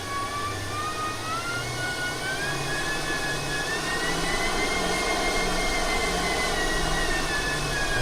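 Osprey tiltrotor aircraft in the RealFlight 7 simulator lifting off, a steady loud turbine whine with a rising tone and a pulsing rotor throb beneath, with no talk.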